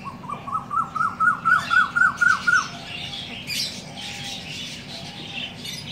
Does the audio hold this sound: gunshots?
no